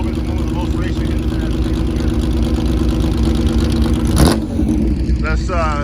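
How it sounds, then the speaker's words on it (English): A Porsche sports car at a muscle car and truck cruise rollout roars past with a sudden loud revving swell over a steady drone of idling engines, while people talk nearby. "There comes the Porsche."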